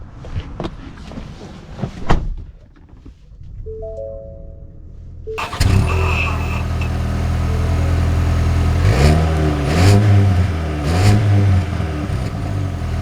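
A 2024 Ford Maverick pickup truck starts up and pulls away, its engine rising into a loud, steady rev with a few throttle surges, heard up close from inside the cab without talk.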